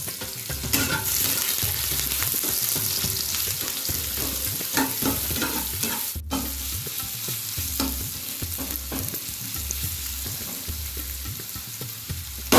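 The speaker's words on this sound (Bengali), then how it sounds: "এবার পেঁয়াজ রসুনটা ভালোভাবে ভাজা ভাজা করে নেবো।" Onion and garlic sizzle steadily in a pan, with repeated scraping of a spatula stirring them through the hot oil.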